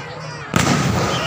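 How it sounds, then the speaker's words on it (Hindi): Fireworks and firecrackers go off at an outdoor Dussehra Ravan Dahan celebration, a sudden loud burst erupting into a sustained crackling roar after a half-second of crowd murmur. "ये देखिए पटाखों की शुरुआत हो चुकी है।"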